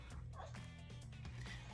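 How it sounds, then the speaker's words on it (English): A dog barks and yips several times close by in a home during a makeup routine, with a low steady hum underneath. "And don't worry, that's my dog."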